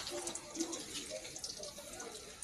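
Water running steadily into a container at Buscalan tattoo village, a faint splashing trickle with brief louder spurts, heard under soft talk nearby.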